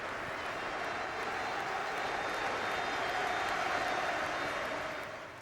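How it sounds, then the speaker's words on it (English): A stadium crowd at Sunderland's Stadium of Light gives a minute's applause before a football match, steady distant clapping filling the ground evenly and fading slightly at the end, with no voices above it. "And minutes applause at the Stadium of Light as Sunderland Football Club paid tribute to Ian Porterfield"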